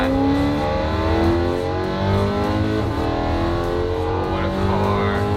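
A modified BMW E92 M3 with its V8 engine revving hard, a loud, continuous throaty roar that climbs steadily in pitch under acceleration, close and dominant throughout.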